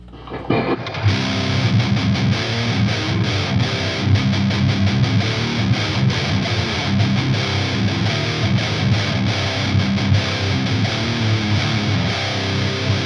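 A guitar with EMG 81 bridge and 85 neck pickups plays through a Behringer Heavy Distortion pedal into an amp's clean channel, kicking in after a second with dense, saturated riffing that stays loud and continuous throughout.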